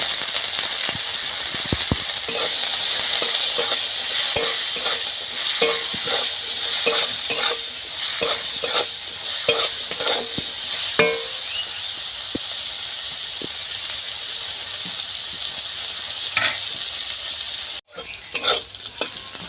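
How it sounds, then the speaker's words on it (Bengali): Bitter gourd (uchhe) with salt and turmeric fries in a pan, a steady close sizzle broken by repeated scraping stirs, then a brief clatter near the end. "উচ্ছেগুলো ভাজা হয়ে গেছে।"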